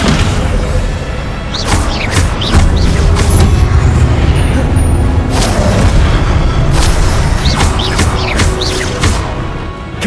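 Repeated Confringo blasting-curse explosions in Hogwarts Legacy, loud booming bursts arriving every second or so over a dense, roaring combat din.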